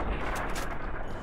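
Gunfire in the video game Fallout New Vegas, dense and loud, with rapid overlapping shots blending into a continuous booming burst.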